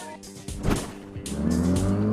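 Hot rods race down a New Jersey highway at over 100 miles per hour, loud engines roaring past with a sharp tire squeal and a sustained high-pitched whine building near the end.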